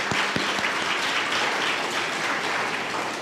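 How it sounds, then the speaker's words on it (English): An audience applauds after a dancer's Bharatanatyam arangetram recital. A few sharp individual claps at the start give way to even, moderate clapping that fades slightly toward the end. "another round of applause for Shruthi"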